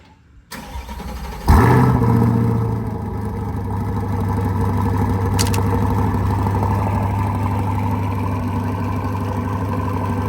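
A fully warmed-up Chevrolet C8 Corvette with an AWE exhaust starts with a sharp bark, then settles into a steady, deep, throbbing idle that stays loud and close, with no one talking.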